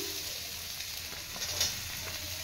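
Chopped onion frying in hot oil, with a steady, continuous sizzle and crackle that holds fairly even throughout, close up and alone without talk.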